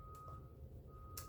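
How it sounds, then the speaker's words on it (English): A truck reverses outside, its backup alarm beeping as a steady, faint tone that cuts out briefly once, heard alone from a distance with no talk. "There's a truck backing up,"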